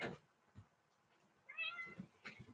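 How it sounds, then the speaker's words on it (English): A cat meows once, a clear drawn-out call in a quiet room during a brushing session, with a few soft thumps and handling noises around it. "I got the kitty cat."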